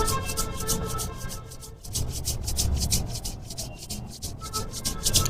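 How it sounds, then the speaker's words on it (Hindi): Palms rub briskly together during a pranayama breathing session, a steady rhythmic swishing friction of skin on skin that continues for several seconds with a short pause midway, close and fairly loud, with no talking. "यहीं पर करेंगे हाथों को रब"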